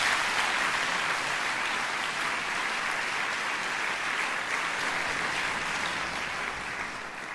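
An audience at a concert hall applauds a wind orchestra's musicians, giving dense, even clapping that holds steady throughout and fades slightly at the end.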